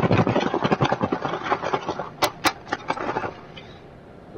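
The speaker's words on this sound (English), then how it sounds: "I'm trying to shake my chicken wings in some spices" Rapid, rattling shaking of chicken wings with spices in a container, a busy scraping and tumbling noise with a couple of sharp clicks near the end, close by.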